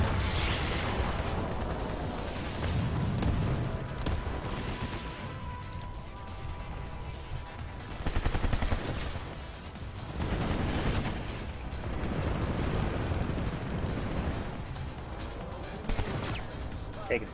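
Gunfire crackles through a large Planetside 2 battle, dense bursts and scattered shots rising and falling over a constant din of combat, with someone talking at times.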